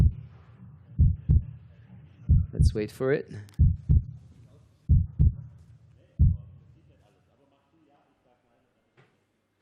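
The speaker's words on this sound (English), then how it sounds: "Is that your heartbeat that I'm hearing?" Amplified heartbeat thumps play at a timber sports competition, a series of deep regular double beats under a presenter's voice, fading into near silence at the end.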